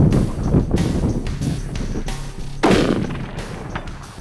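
A rifle fires at long range toward a steel target 1,007 yards away, with a loud close blast near the start and another heavy report partway through, each trailing into rolling echo under wind noise.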